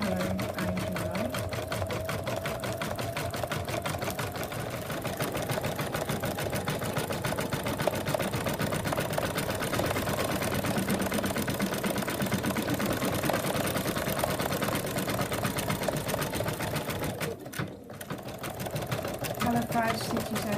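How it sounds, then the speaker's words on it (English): An embroidery machine stitches the black of a teddy bear's eyes, surroundings and eyebrows, its rapid needle chatter running continuously with a brief dip near the end. "Color 5 stitches out the black of the eyes and the surroundings and the eyebrows."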